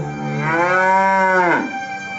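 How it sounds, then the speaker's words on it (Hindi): A cow moos once, a loud, close, drawn-out lowing call that rises and then drops sharply at the end, heard alone with no talk. "वह अब भी तुम्हारे कदमों की आहट सुनकर रंभाने लगती है।"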